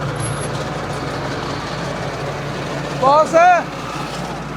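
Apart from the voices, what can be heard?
60 HP tractor with super seeder running in creeper gear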